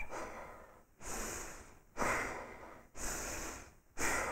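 Powerful rhythmic yoga breathing, with forceful breaths through the nose repeating about once a second in a steady cycle, loud and close with short pauses between each one.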